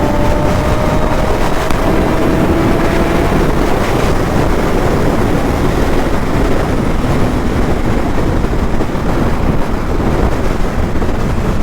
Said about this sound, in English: Rolling it on from 6 gear, it just goes.